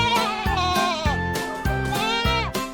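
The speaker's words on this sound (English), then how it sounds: "Now let's say hello to the goat. Hello goat. How are you goat? And the goat says," A goat bleats several times in quick succession, loud and close, each call wavering in pitch, with no voices alongside.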